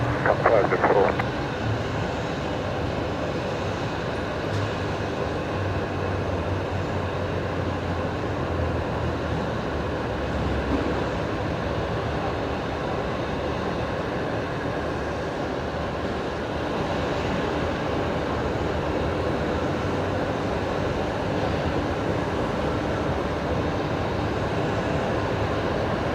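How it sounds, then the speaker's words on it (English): Qantas flight 544, an airliner arriving from Sydney, rolls along the runway at Brisbane Airport at night, a steady, broad engine roar that holds at even loudness throughout, with a brief louder burst at the start. "That was Qantas 544 just arriving from Sydney tonight here on runway left."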